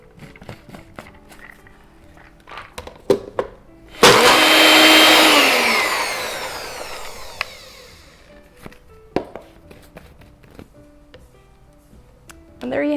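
A blender whirs loudly for a few seconds, blending vegan oil-free mayonnaise, its motor pitch dropping slightly before fading out, with scattered clicks and knocks of the jar and lid before and after.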